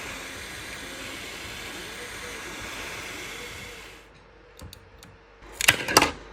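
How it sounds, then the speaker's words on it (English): A 3D printer prints an iris mechanism, its motors giving a steady whirring drone with sweeping tones for about four seconds. The sound then quiets, and a few sharp clicks and rattles follow near the end. "Let's make an iris using 3D printer."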